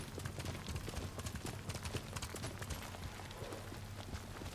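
Horse hooves gallop in Ghost of Tsushima, a fast steady clip-clop close by that runs throughout over a low rumbling game soundtrack.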